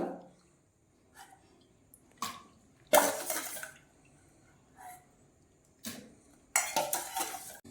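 Raw plantain pieces for kaalan tumbled into a cooking pot, landing in several distinct clattering bursts spread over the clip, close by with quiet gaps between drops.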